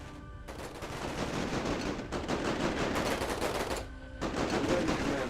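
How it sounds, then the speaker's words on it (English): Sustained gunfire in the Era One real-time strategy game: dense, continuous bursts of rapid shots that fill the space, briefly broken by two short gaps before the barrage resumes. "We're taking fire!"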